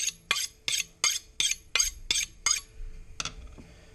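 A sharp knife cubes about eight ounces of thawed yellowfin tuna on a New England Patriots cutting board, landing in about nine crisp, evenly spaced chops close by, with no talk.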